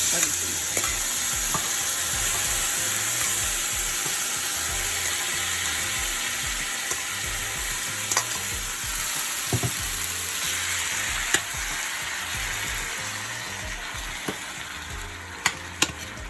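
Jerk shrimp with garlic and seasoning sizzling steadily in a pot, a continuous close frying hiss punctuated by occasional clicks and scrapes of stirring, with no talking.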